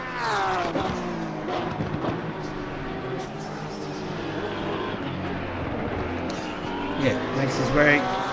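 Race car from a PC racing game threading the chicane at Suzuka, engine note rising and falling through downshifts and acceleration, loud and continuous with a commentator talking over it.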